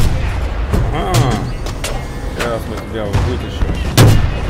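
Gunfire in the Battlefield 2 video game: repeated sharp shots and booms burst out through the scene, some heavy and close, with someone talking over the noise.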